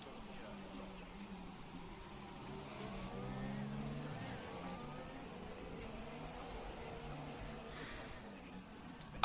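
A Formula 1 car at full throttle on the Baku street circuit in the F1 2017 racing game produces a steady, fairly faint engine drone with rising and shifting tones, briefly swelling midway.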